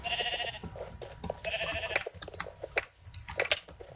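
Blocky Minecraft sheep bleat in short nasal bursts, several calls spread over a few seconds, with small game clicks and faint background noise between them.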